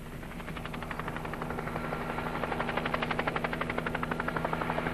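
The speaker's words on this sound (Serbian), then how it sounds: "Prvi deo izvodi se pomoću helikoptera." A helicopter used to round up wild mustang horses gives a steady engine whine, with a rhythmic rotor chop that grows louder and more distinct as it approaches.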